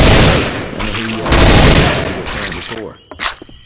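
Rapid bursts of gunfire from Left 4 Dead 2 fill the clip, loud and dense with booming shots layered together, tapering off toward the end before a final short flurry.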